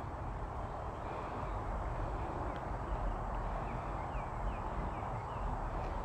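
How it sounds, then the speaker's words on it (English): Faint birds chirping in short, scattered calls over a soft outdoor hush in Central City Park, distant and gentle. "Now we hear the birds chirping."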